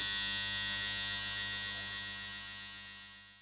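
A GT Sonic cheap eBay ultrasonic cleaner running with a steady electrical hum and a high hiss, constant and fairly loud, slowly fading toward the end.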